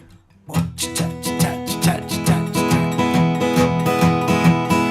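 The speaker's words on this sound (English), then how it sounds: "which this is kind of a shuffle, blues shuffle rhythm." Fingerpicked acoustic guitar plays a bouncy blues shuffle, a steady alternating thumb bass under plucked notes, close and clear, after a brief quiet start.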